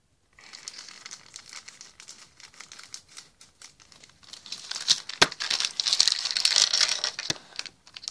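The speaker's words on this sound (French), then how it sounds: "On va ouvrir le petit sachet." A small plastic packet from a LEGO Batman magazine is torn open and handled, producing close crinkling and rustling that starts soft, then grows louder and busier with sharp crackles before settling.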